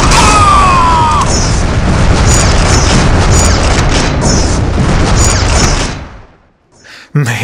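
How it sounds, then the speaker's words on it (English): Loud explosions in the 1998 mech video game Shogo boom continuously with crackling bursts for several seconds, then cut off before a final sharp hit. "Man, I love these explosions."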